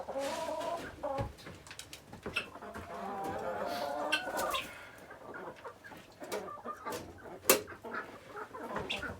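A flock of farm chickens clucks and squawks around the yard during evening chores, a busy mix of overlapping calls with rustling and scattered knocks, fairly close and without talk.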